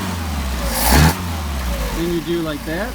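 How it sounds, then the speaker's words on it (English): A car engine fitted with Solex 44PHH carburetors revs briefly in one sharp, loud burst, then drops back toward idle, with someone talking over it. "rev it, make sure it doesn't backfire."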